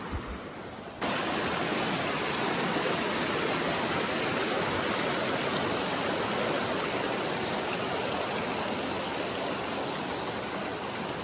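Steady rushing of river water, loud and continuous, with a broad hiss that swells in after the first second and holds evenly throughout.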